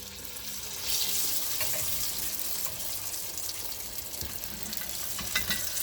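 Banana flower vadai dropped into hot oil and deep frying, a steady bubbling hiss at moderate level with a few brief pops and clatters, no talk.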